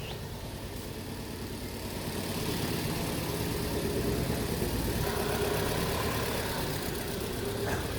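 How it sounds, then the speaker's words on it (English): Vauxhall Astra J petrol engine with a misfire fault, started and settling into a steady idle, a close continuous low rumble that rises slightly after the first couple of seconds and then holds with no speech. "Now I'm going to start the engine."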